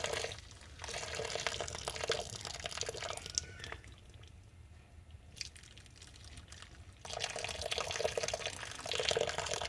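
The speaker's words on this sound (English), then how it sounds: "the steam is pushing the water ahead. That's why it's coming out in spurts" Water and steam gush and spatter out of a steam boiler skimmer in irregular bursts, pausing briefly in the middle before surging again with a hissing, splashing rush.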